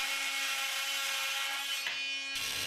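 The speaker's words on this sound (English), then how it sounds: "allows you to make deep plunge cuts in wood, as for instance for cutouts in floorboards and decking" An AIZ28EB blade on an oscillating multitool plunge cutting into wood, a loud, steady buzzing saw whine held close throughout, shifting pitch briefly near the end as the blade bites deeper.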